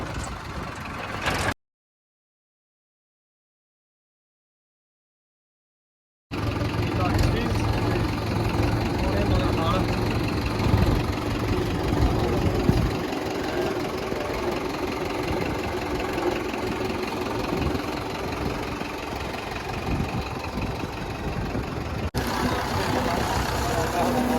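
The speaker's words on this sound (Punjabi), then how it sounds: "ਚੱਲ ਵੀ ਸੁੱਖੀ ਟਰੈਕਟਰ ਕੱਢੀਏ" A tractor engine idles with a steady, low, knocking rumble that runs continuously after a short silent gap, with voices in the background at times.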